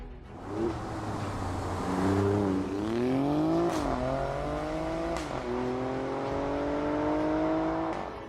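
An Alfa Romeo Stelvio Quadrifoglio SUV with a Ferrari-derived twin-turbo V6 revs and accelerates through rising gear pulls. The engine tone climbs, drops and climbs again, loud and close, with no voices.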